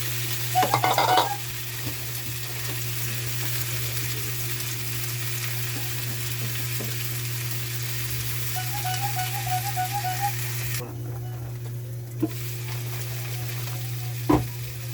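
Tilapia and potatoes fry in a pan with a soft steady sizzle, accompanied by a few clinks and stirring noises over a constant low hum.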